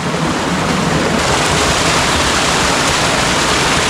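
Cold water from a large mountain spring on Mount Banahaw rushes and splashes in a steady, dense roar, close and continuous, with no voices.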